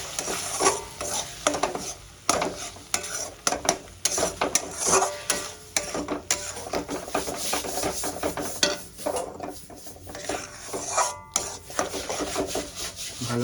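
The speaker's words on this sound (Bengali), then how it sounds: "টমেটোটা দিয়ে আমার কষানো হয়ে গেছে।" Tomato puree is sautéed over ginger, garlic and green chilli in a pan and stirred hard. A spoon scrapes and rubs in a constant rhythm over a low sizzle, loud and close, with no talking.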